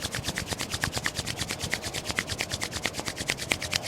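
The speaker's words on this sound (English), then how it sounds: "Rub your palms together." Palms rubbed briskly together to build heat during a Kundalini Yoga warm-up, a steady run of quick, close swishing strokes repeating evenly with no talk.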